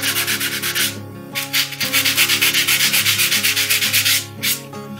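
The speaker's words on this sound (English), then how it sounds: "I've taken 150 grit sandpaper and just smoothing it out" Hand sanding with 150 grit sandpaper smooths filled nail holes in wooden trim molding, a loud, steady back-and-forth scratching in even rhythmic strokes, close up with brief pauses and no talk.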